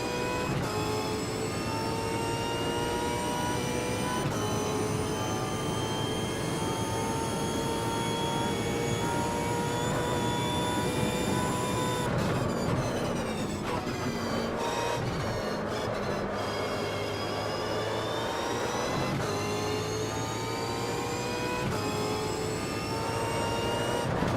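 A Super V8 race car engine lapping Bathurst in the Automobilista racing game roars continuously and loud, its pitch climbing through the gears with sharp drops at each shift and downshifts under braking.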